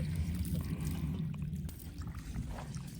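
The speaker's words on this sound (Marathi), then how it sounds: "पाणी मारतोय मी." Water is sprayed from a hose at a construction site, making a steady, hissing splash that runs continuously under low background rumble, moderately loud and close.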